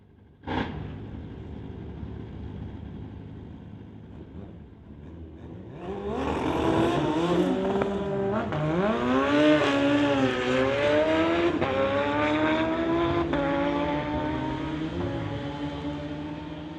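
Street bikes drag racing at an NHRA Summit ET Series and CMDRA bike drags event. After a faint pop and a quiet stretch, the engines roar in loudly, revving hard with rising and falling pitch through the gears as the run continues down the strip.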